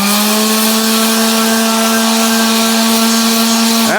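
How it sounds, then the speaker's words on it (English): An old sander fitted with a 120 grit disc grinding cast iron on a Stuart Turner generator cylinder, a loud steady motor whine with a hard abrasive rasp, winding down at the end. "Let's put this 120 disc on the old sander."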